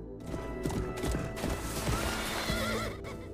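On a horse ranch, horses whinny repeatedly while hooves clip-clop steadily underneath, a busy, fairly dense mix heard at moderate distance without any talk.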